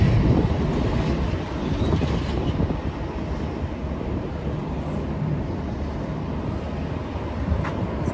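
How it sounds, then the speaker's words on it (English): Wind buffeting a microphone beside a road train in the Pilbara, a constant loud low rumble and roar lasting the whole stretch, with no talk. "It's quite windy"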